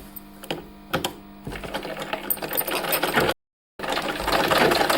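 Domestic sewing machine stitching warm fabric pieces of a child's cap together, a loud close mechanical whirring clatter with a few short starting bursts, then a sustained run, a brief stop and a resumed run.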